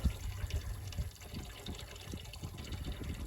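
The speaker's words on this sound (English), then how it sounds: "Let their water fill up." A pasture water line runs into a livestock trough with a steady splashing gush, continuous and close, with small bubbling and dripping textures throughout.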